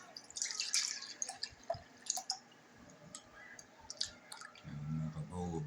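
Buttermilk draining off homemade butter, a faint patter of drips and small liquid splashes close by, ending in a steadier trickling pour.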